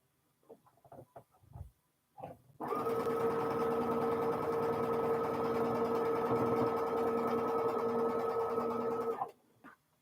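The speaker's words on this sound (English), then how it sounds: "wind 3 or 4 bobbins so I am ready to go when I get that warning" Sewing machine motor running steadily for about six and a half seconds while winding bobbins, a loud continuous hum after a few light clicks and handling sounds, with a brief clatter as it stops.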